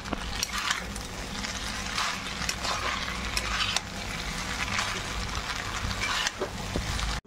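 Pasta frying and being stirred in a pan on a home stove, a steady close sizzle with repeated scraping and clinking strokes of a utensil against the pan throughout.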